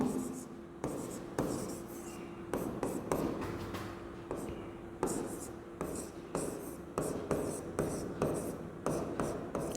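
Chalk or marker writes on a board during a physics lecture, making repeated scratching strokes in short bursts with brief gaps. The strokes are close, and quiet speech is heard under them.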